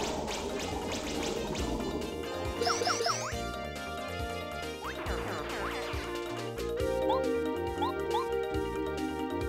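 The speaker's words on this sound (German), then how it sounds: "Dann kriegen sie jetzt erstmal einen Tsunami." Paper Mario tsunami water attack: bright chiming game effects and rushing, watery swooshes play over music at steady volume, with sparkling tinkles near the end.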